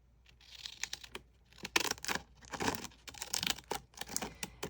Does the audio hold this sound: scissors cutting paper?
yes